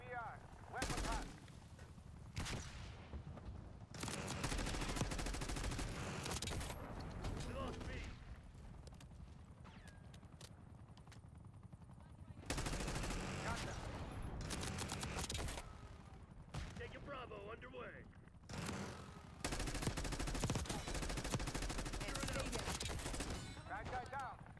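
Rapid bursts of gunfire from Black Ops 6 multiplayer, loud automatic volleys coming in repeated clusters with brief lulls between them, mixed with game voice callouts.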